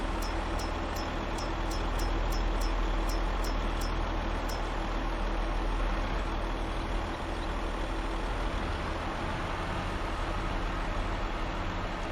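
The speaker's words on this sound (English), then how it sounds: "100 horsepower tractor pulling a 30-ton trailer" A 100-horsepower tractor in Farming Simulator 22 on the Zielonka map drones steadily and loudly while pulling a 30-ton trailer, with a row of light, evenly spaced high ticks near the start and no talking.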